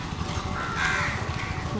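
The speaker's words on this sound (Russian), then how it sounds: "Птицы сидят на коровках." Crows caw on an outdoor path to a beach in Mumbai, India, where birds perch on cows; one drawn-out caw rises over a steady background of ambient noise and distant voices.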